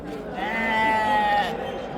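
A sheep or lamb at a livestock market in Paloxon lets out one drawn-out, wavering bleat close by, with the market's background murmur and voices around it.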